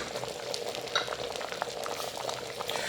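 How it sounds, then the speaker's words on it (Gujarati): Restaurant-style dal makhani lentils cooking in a pot over medium gas, giving a steady close bubbling and sizzling simmer with soft pops and no voices. "તમે જોઈ શકો છો કે આપણી દાળ સરસ કૂક થઈ રહી છે."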